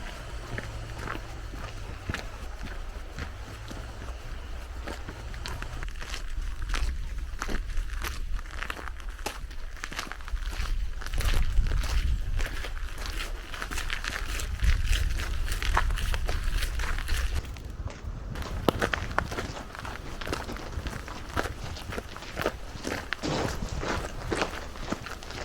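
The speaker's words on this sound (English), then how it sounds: "Quite a satisfying sound underfoot, actually." Hiking boots crunch along the Great Glen Way trail near Loch Ness, Scotland, with steady close footsteps on gravel throughout, crisp and rhythmic, with no talking.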